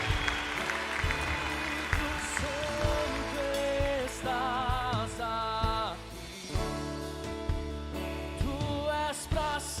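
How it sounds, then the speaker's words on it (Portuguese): Applause from a church congregation rises under sustained music with held tones and melodic lines, the clapping spread and moderately faint throughout. "Pode aplaudir, dar glória a Deus aí."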